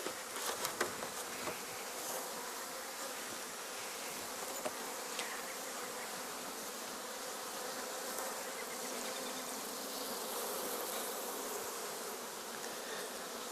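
Honey bees drone continuously at a hive while a beekeeper works the frames, a dense, steady buzzing swarm sound that stays close and fairly quiet throughout, no voices.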